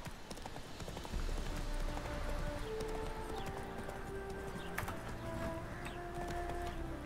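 Roach, a horse in a fantasy video game, gallops with steady clip-clopping hooves at close range under game music, with brief whinnies and no talking.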